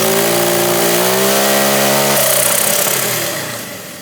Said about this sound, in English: The exhaust overpowers the sound of the dose pretty badly